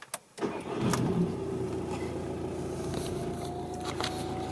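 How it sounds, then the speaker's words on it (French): A car engine cranks and catches, then settles into a steady idle hum that continues to the end. "Et puis démarrer le moteur. Tac,"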